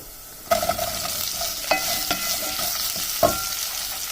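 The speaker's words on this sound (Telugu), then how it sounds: "ఉల్లిపాయలు వేసుకోవాలండి మంచిగా వేసుకోవాలి ఇవన్నీ నూనెలో" A cup of onions hitting hot oil and being stirred for a stuffed chilli curry: a sudden burst of sizzling that continues loudly, with several sharp scrapes and clinks of the spoon against the pan, and no talking.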